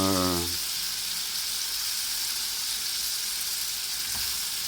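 Three leeks and two onions sweating in four spoonfuls of olive oil, a dense, even sizzle held close and loud, following a brief hum at the start.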